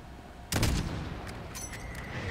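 A single loud shot cracks out in the Modern Warfare campaign, followed by a few fainter distant reports and a lingering echo over a low battlefield hum.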